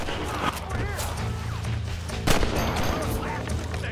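Gunshots ring out in the Red Dead Redemption video game, a few sharp cracks, one louder burst near the middle, amid busy game noise and ongoing chatter from players.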